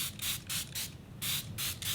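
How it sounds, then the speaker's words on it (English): Five short, airy bursts of fine mist from a Fenty Beauty makeup setting spray in a quick, fairly even rhythm, close by and soft, with brief pauses between them. "the new Fenty Beauty You Mist Makeup Extending Setting Spray. I'm gonna spray it."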